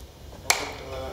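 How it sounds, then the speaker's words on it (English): A single sharp hand clap, loud and close, cracks once in a quiet room and leaves a brief trailing ring. "Here goes the clap."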